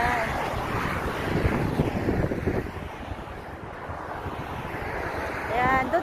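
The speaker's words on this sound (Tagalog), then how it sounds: "masyado pong mahangin guys, mahangin" Strong wind blows near the sea, a continuous loud rumble battering the microphone, with faint voices briefly audible at the start and end.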